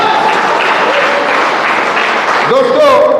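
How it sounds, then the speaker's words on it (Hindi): An audience at a training seminar claps loudly and continuously, a dense wash of applause with a voice rising over it near the end. "एक बार आईएमसी के लिए जोरदार ताली बजाएंगे"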